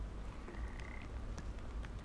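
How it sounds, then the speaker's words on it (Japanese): Frog croaking in the Papo & Yo video game, a quiet, steady ambient call over low background hum, with a few soft tonal chirps and no talking. "あ、カエルがいるじゃん。"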